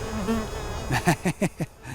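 Bees buzzing around someone who keeps them, a steady insect drone with several short louder buzzes passing close by near the end.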